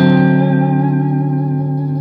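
A PRS SE Silver Sky electric guitar plays a single sustained chord on a favored pickup selection, ringing out loud with reverb and slowly fading, with no talking.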